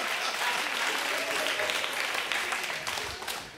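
Sustained audience applause at a television talk show's actors' night in Bulgaria, a dense, loud wash of many hands clapping that continues throughout and tapers slightly at the end.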